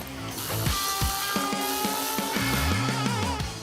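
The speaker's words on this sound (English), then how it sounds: "we can actually go ahead and fully tighten these bolts down" A ratchet fully tightens bolts on the linkage of a Boost Auto retractable bed step on a 2011–2014 Chevy Silverado, giving rapid close clicking runs in short repeated strokes, with no talk.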